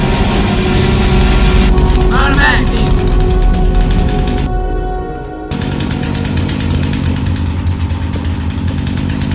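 A chainsaw in the Half-Life mod No More Room In Hell roars loudly and continuously, a harsh buzzing drone that briefly drops and cuts back in, with game noise and voices mixed in.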